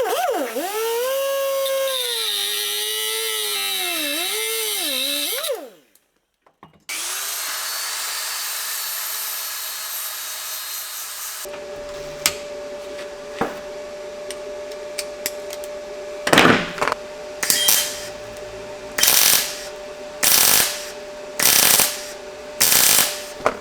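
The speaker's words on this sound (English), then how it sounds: "I'm going to cut it off, scrub off the zinc plating and put a tack in the hole" A power tool whines at high pitch, wavering as it cuts a zinc-plated banjo fitting, then stops. After a pause, a steady motor hum runs under a series of sharp, repeated scrubbing bursts.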